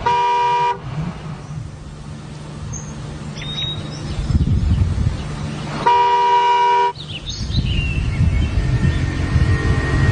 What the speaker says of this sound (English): My instructions were to stay in the car and honk my horn until somebody came to fetch me